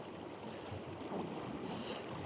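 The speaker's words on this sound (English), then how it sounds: "I need a moment of reprieve from this wind" Wind blows outdoors during nature photography, a steady broadband rush and buffeting against the microphone that swells slightly near the middle and carries on with no voices.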